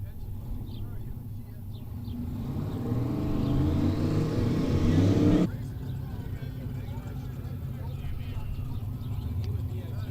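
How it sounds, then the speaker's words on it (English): Two turbocharged Mustangs, a 2018 and a black 2000 model, launch off a drag strip starting line with a loud rising engine roar that cuts off abruptly, followed by steady rumbling, while a commentator talks over it. "both of them off the starting line, getting the turbos to spool where they want them"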